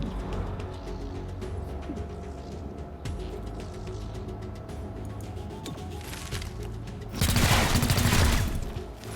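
Squad weapons firing in the video game XCOM Chimera Squad, a string of gunshots over a busy game soundscape, ending in a loud burst of sustained fire near the end.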